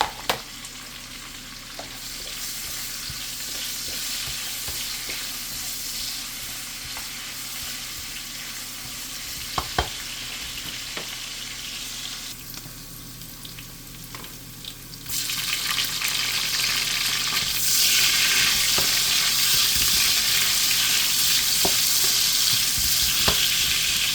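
Onions stir-fry for pancit canton in a loud continuous sizzle with a few sharp clicks of stirring, the hiss swelling markedly about halfway through and staying strong to the end, no talking.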